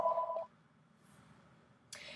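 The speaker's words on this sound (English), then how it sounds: "Sorry, I'm at work, the phone rang." A desk telephone at a workplace gives a brief electronic ring lasting about half a second, then goes quiet. A second short, bright burst follows near the end.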